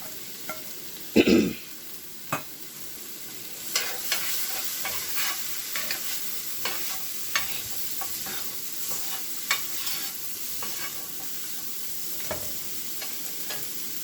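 Raisins and onion hit hot oil with blooming spices in a curry pan, giving a steady close sizzle with repeated clicks and scrapes of stirring and one louder clatter near the start.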